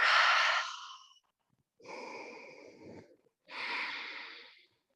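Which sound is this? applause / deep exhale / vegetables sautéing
deep exhale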